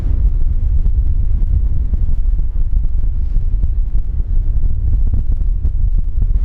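Strong wind buffets the deck of a sailboat out in brisk, stormy conditions, a steady loud roar with low rumbling gusts throughout and no talking.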